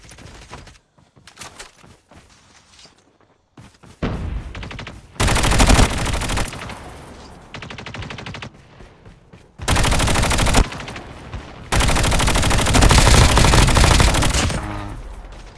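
Loud, close bursts of automatic gunfire from the Call of Duty Mobile shooter game, with sustained rapid-fire stretches separated by brief quieter gaps.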